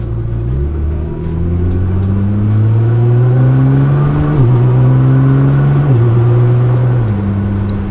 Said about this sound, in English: So that was a slight acceleration,